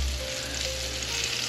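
Country style steak frying in a pan, a steady close sizzle with crackling spread across the whole stretch and a low hum underneath, no voices.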